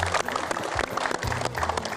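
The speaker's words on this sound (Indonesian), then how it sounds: "Tepuk tangan untuk semangat kita semua." A studio audience applauds, with dense steady clapping that is moderately loud and continuous for a couple of seconds.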